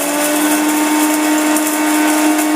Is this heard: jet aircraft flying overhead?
no